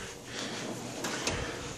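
A heavy bottom drawer on a Harbor Freight US General 72-inch tool box, loaded with gloves, channel locks and electrical tools, slides with a steady rolling rumble and ends in a faint clack near 1.3 s.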